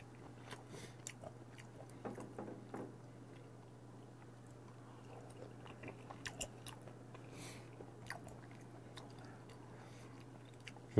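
Raw cuttlefish sashimi is chewed close up, with soft wet squishes and faint crunchy bites in an irregular rhythm over a low steady hum, quiet and without talk.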